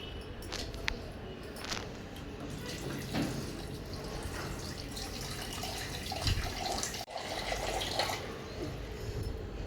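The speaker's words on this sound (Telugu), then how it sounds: "ఇంకా కొన్ని వాటర్ కూడా యాడ్ చేస్తాను" Water pours and splashes into a pot of stuffed eggplant curry gravy at close range, a soft continuous trickle with a few clinks, fairly quiet.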